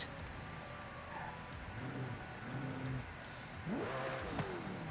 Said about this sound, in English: This is a 5-liter twin-turbo V8.